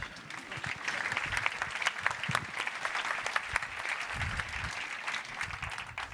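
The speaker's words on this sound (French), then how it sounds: "On peut l'applaudir bien fort." An audience applauds steadily, a dense wash of many hands clapping for several seconds with faint crowd murmur.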